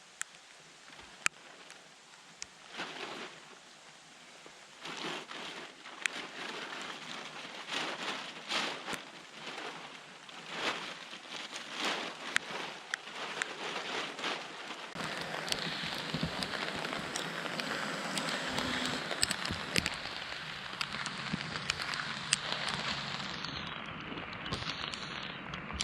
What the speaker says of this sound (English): Now the rain starts,